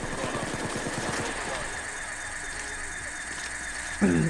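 A heist drill running in Payday 2: a rapid mechanical hammering rattle at first, then settling into a steady whirring drone, with a voice talking over it near the end.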